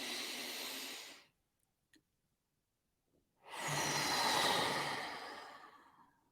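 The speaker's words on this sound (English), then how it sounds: "Breathe in." Two long, airy breaths during a mindful breathing exercise, the first fading into silence and the second, after a quiet gap with small clicks, swelling close and loud before tapering off.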